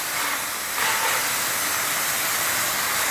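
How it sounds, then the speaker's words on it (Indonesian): Loud, continuous steam hiss from a steam-cleaning motor blasting dirt off a surface at a Betawi roadside restaurant, close, steady and without pauses, no talking. "Iya, mesinnya keras ini masanya."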